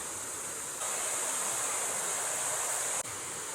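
A river of cold water flows beneath trees with a steady, even rush that never pauses, moderately loud and continuous, with no voices.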